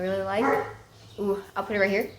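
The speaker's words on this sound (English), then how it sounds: "sorry, that's my dog" A pet dog barks in short yelps mixed in with a person talking close by, the barks blending into the speech over a couple of seconds.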